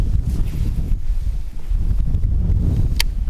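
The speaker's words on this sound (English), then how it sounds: "This wind is really picking up." Strong wind buffets the microphone in a steady, loud low rumble throughout, out on the water during kayak bass fishing, with a faint brief click near the end.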